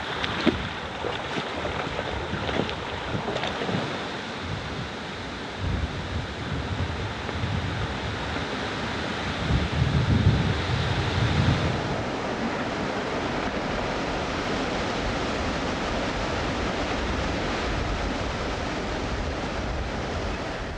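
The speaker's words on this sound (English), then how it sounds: "the wind has picked up considerably, making travel very difficult" Strong wind roars through a river canyon in a continuous, heavy rush that buffets the microphone and swells for a stretch midway.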